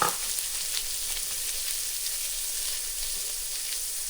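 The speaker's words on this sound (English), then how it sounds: "we're going to add in the Rotel and 3 cups of beef broth." Rotel and beef broth go into a hot one-pot taco pasta with ground beef, and the pot sizzles loudly and steadily throughout with no talking.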